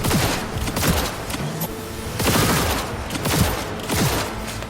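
Dense gunfire in a Cyberpunk 2077 firefight, a continuous loud fusillade of overlapping shots and impacts that rolls steadily throughout without pause.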